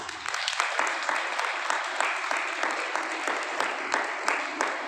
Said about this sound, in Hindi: ताली बजाइए अपने आप को।